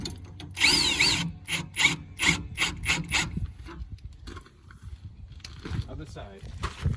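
A hand ratchet clicks in quick bursts while tightening bolts on a Hensley Arrow hitch fitted to a 2020 Grand Design Reflection 312 BHTS travel trailer, loud and close at first, then fading into softer handling noises with talk underneath.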